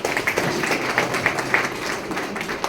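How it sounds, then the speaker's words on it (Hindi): Audience applause at an RCM meeting held at a Swaminarayan temple in Nadiad, steady scattered clapping from a crowd with sharper individual claps standing out, continuous and moderately loud throughout. "क्या बात है, बजाओ ताली।"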